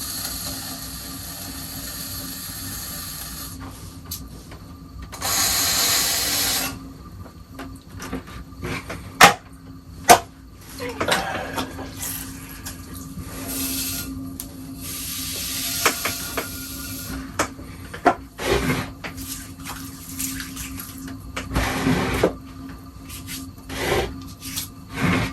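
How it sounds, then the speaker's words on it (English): A thrown pottery coffee cup has its foot trimmed on the wheel, a rasping scrape that rises and falls in uneven strokes, with brief bursts of louder hiss and a few knocks, no talking. "trim the foot a bit here"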